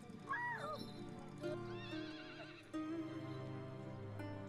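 A horse at a race-meeting horse show, ridden by a performer in traditional costume, whinnies loudly several times, with hoof clip-clops and rustling beneath, close by and without speech.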